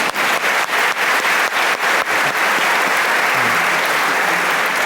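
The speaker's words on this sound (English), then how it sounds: "Yeah, we can clap." Loud, close applause from a conference audience at a Mind & Life Europe session on power and care, thick and continuous, with a few sharp individual claps standing out early on.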